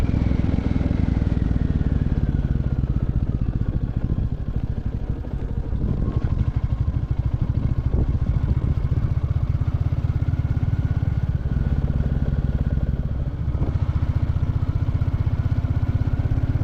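A motorcycle rides along a green mountain road on the NH 717A route toward Darjeeling, its engine droning steadily and loud with rumbling wind and road noise, no talk.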